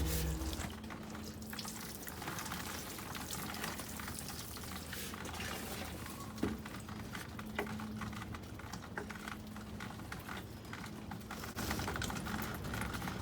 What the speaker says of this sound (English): I am going to water it real good, make sure that it's completely saturated